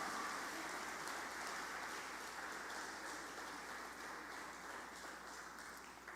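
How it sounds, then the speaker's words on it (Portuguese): A congregation applauds during a church service, a dense, steady wash of clapping that holds evenly for the full stretch and eases slightly toward the end, with no voices rising above it. "Pode aplaudir o Senhor Jesus, glória a Deus"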